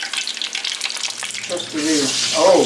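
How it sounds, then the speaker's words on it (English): Corn crackles and sizzles as it fries in hot oil, a steady bright hiss with popping, while a voice speaks briefly over it. "that corn's frying up real nice in there"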